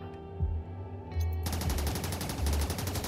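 Bursts of automatic gunfire from the video game RimWorld rattle in rapid succession over a low game hum, loud and sustained through the short stretch.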